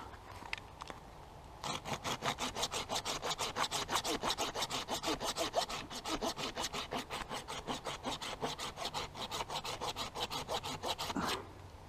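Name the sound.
hand saw cutting red pine wood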